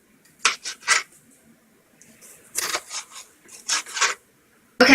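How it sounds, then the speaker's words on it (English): A kitchen knife slices a seeded sweet pepper into thin strips for a Chinese dry tofu and celery stir fry, giving close, crisp cutting strokes in quick clusters of three or four, separated by short pauses. "now I just cut the sweet pepper into thin slice"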